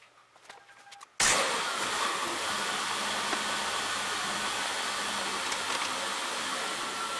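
Car engine running at about 6 miles an hour with a wheel turning, a steady loud whooshing drone that cuts in abruptly after a quiet second and holds evenly to the end, no talk.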